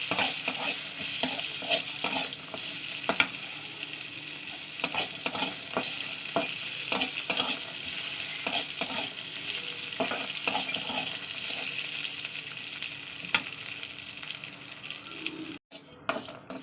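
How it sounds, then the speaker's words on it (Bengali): Cashew nuts crackle and sizzle in a pan for a long stretch, with frequent scraping and stirring clicks, and no voices. "কাজু বাদাম নিয়েছে এটা একটু ফ্রাই করে নেবো"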